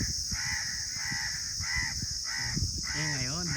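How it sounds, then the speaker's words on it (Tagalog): Several crows caw in repeated harsh bursts, fairly close, while a person talks underneath and a steady high hum runs throughout. "Puro uwak yan."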